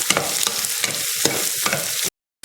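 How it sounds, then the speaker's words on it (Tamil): Slit green chillies sautéing in a pan for mushroom pulao, with a steady close sizzle and repeated scraping stirs, cutting off abruptly near the end. "ஒரு 3 பச்சை மிளகாய் கீறி வச்சுருக்கேன், அதையும் போட்டுக்கலாம். இதை நல்லா வதக்கிக்கலாம்."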